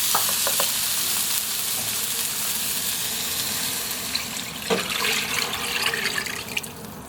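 Onions and tomatoes sauté in a pan with a steady, loud, close hiss and sizzle, punctuated by a few light clinks of stirring and no talk.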